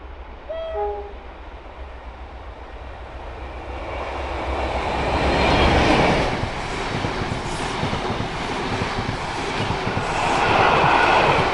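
A train passes on a railway line as a low rumble that builds, beginning with a few short horn-like tones and then swelling into a loud, sustained roar of wheels and cars rolling past close by.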